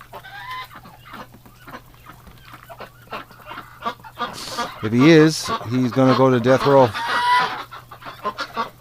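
Geese honk loudly and repeatedly in a winter barnyard, a burst of harsh calls close by, with someone talking before and between them.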